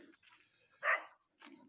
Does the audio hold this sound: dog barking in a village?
yes